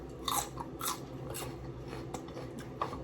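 A firm raw bell pepper crunched in a close bite, with a few sharp crisp snaps spread over a few seconds and no talking.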